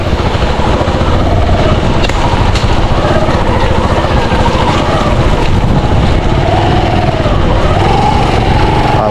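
A motorcycle engine whines and buzzes close by amid typhoon conditions, its revving pitch wavering up and down over steady loud wind noise.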